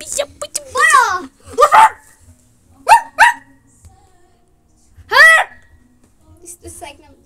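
A dog barks in a few sharp, separate bursts indoors at a newly moved-into house, with a voice and other talk around the barks.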